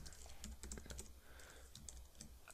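Quiet, rapid keystrokes on a computer keyboard, close but soft, come in quick uneven bursts while someone enters SQL commands.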